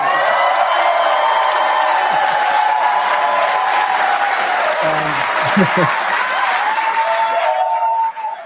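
A large political rally crowd in Virginia applauds and cheers continuously and loudly, with dense clapping and scattered whoops filling the space throughout, briefly easing at the end.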